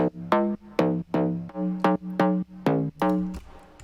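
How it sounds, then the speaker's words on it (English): A distinctive Serum-made synth bass plays solo, a loud, rhythmic string of plucky notes, each bright at the start and quickly mellowing, bouncing between a couple of pitches in a syncopated pattern with no talking. "More unique bass."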